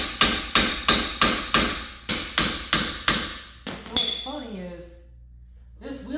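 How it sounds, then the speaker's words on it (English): A hammer strikes a Subaru wheel bearing about a dozen times in a steady metallic rhythm, sharp ringing hits close by, then stops as a voice speaks briefly afterward. "it was before we started smacking it with a hammer"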